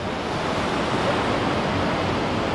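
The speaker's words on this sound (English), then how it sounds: "there's like a rock shelf right there, and the waves hit it, and they're like 50 feet in the air." Ocean surf pounding a rock shelf on the Oregon coast at Depoe Bay, a steady close broadband roar of breaking waves with no pause, heard alone without voices.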